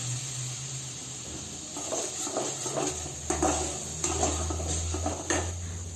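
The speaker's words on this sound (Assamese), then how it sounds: "এতিয়া ইয়াত মই পেষ্টটো দি দিম আৰু ভালকৈ মিক্স কৰি ল'ম" Paste stirred in a hot cooking pan for a simple chicken gravy: a steady sizzling hiss with repeated scraping and clinking strokes of a utensil against the pan.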